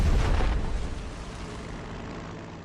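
A bomb explosion in the Pacific war strategy game Strategic Mind: The Pacific bursts with a loud, deep boom that rolls off into a long fading rumble.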